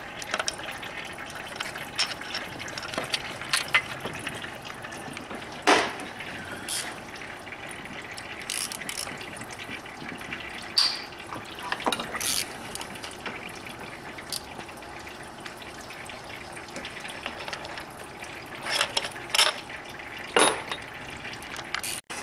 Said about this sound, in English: I'm using an E8 wrench to remove this one